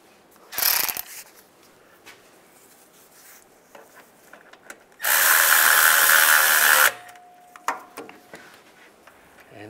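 A bolt is tightened with a ratchet on a 2007-2013 Chevy Silverado during a rear main seal replacement: a short sharp mechanical burst, then a loud, close, buzzing run lasting about two seconds, with quiet clicks between.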